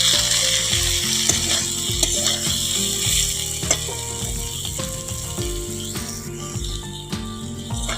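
Vegetables with green chilli and tomato frying in a pan for a radish, potato, brinjal and prawn curry, a loud continuous sizzle with rapid rattling, clattering scrapes of a spatula stirring throughout, close and without voices.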